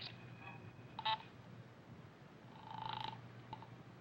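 A telephone call connecting in an old-time radio mystery drama, with faint clicks and a couple of short dial tones and buzzes over a low hum, quiet and distant.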